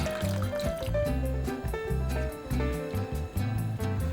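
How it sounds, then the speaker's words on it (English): Broth poured into a pan of tomato sauce, chopped tomatoes and lentils, then stirred: a liquid trickle and soft squishing beneath background music. "Pour in the broth and give it a quick stir."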